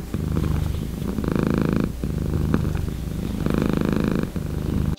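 A friendly indoor domestic cat purrs steadily and close up while being petted, a continuous rumbling purr that swells in rhythmic waves with each breath, with no voices.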